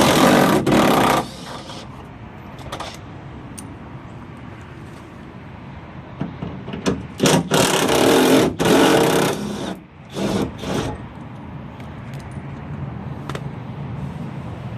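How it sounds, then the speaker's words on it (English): Bursts of a cordless impact wrench backing out long factory fender flare bolts on a 2009-2014 Ford F-150, loud close rattling hammering in several separate runs with brief pauses between, no talk. "Now I'm going to use my impact to get them out because they are long-winded."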